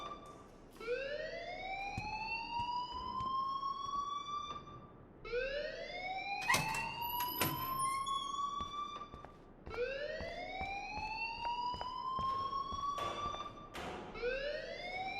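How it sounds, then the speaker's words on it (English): A wailing alarm in the video game Life is Strange sweeps upward in three repeating cycles, loud and continuous, with a few sharp thumps cutting through between rises. "please turn off that alarm since that's your job"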